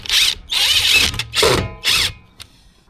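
A power drill drives screws on a building site to fix a cement mixer down, with four loud close whirring bursts of about half a second each that briefly bog down, separated by short pauses.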